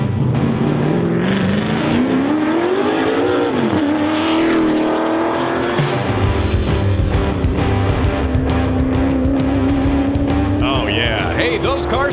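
Race car engine at the Pikes Peak International Hill Climb, revving up and down between gear changes as the car climbs, loud and close, with a voice talking over parts of it.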